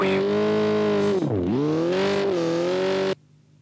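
Rally car engine in Richard Burns Rally revs hard and steady, dips sharply as the driver lifts and shifts, then climbs again under heavy throttle before cutting off abruptly near the end.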